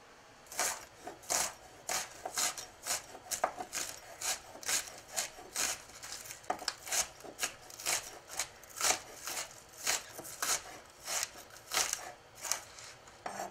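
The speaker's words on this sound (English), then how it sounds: "Now I'm going to go over here and thinly slice some scallions." A knife slices thinly through scallions on a cutting board, a bunch and a half of them, making a steady run of crisp, rhythmic chops close by, repeating about twice a second with no talking.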